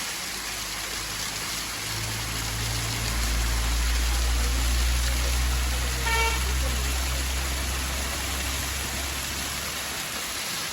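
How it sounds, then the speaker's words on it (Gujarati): A small waterfall beside the Shivghat Mahadev temple in Ahwa, Dang, spills water in a constant broadband roar over a low hum, with a short tonal chirp partway through. "બાજુમાં ધોધ છે"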